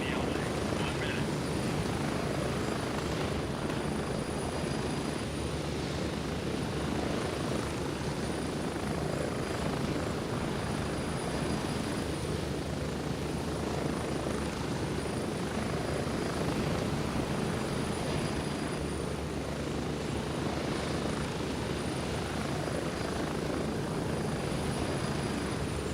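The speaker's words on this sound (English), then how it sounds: "Quite loud when you're in the chopper." A helicopter's rotor and engine drone steadily and loudly throughout a flight in the shooter game Gray Zone Warfare, a constant cabin-like roar with no break.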